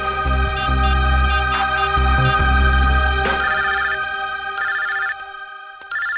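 A telephone rings with a melodic electronic ringtone, repeating bright tonal bursts loud and close over a low musical background that fades partway through.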